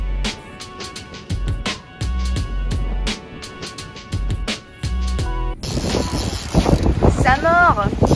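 A rapid mechanical ratcheting whir of a fishing reel running as a fish bites repeats in bursts aboard a sailboat in strong wind, then gives way to wind noise and splashing with a high reel-like buzz near the end.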